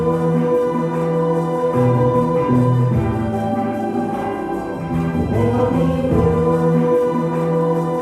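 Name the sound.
slowed-down sampled song as a hip hop beat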